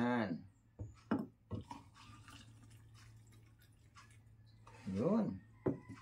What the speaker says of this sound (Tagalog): At ngayon po ay pwede na nating dagdagan ng 2 basong hot water.